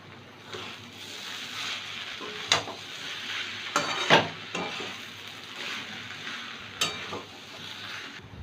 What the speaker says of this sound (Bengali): ঘি আর গরম মশলাটা একটু মিশিয়ে নিলাম।